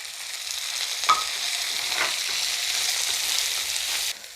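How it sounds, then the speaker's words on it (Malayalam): Onion and capsicum sauté gently in a pan over a low flame, a steady soft sizzle and crackle close by, with a light stir-like clink near the start and no voices. "ചെറുതീയിലങ്ങ് വഴറ്റിയെടുക്കാം."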